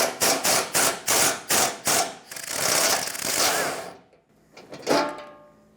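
A ratchet wrench loosens a 12mm bolt under the rear bumper corner of a 1996-2002 Toyota 4Runner, with about seven quick, sharp clicking strokes, then a longer grinding spin and a couple of final clicks, all close up.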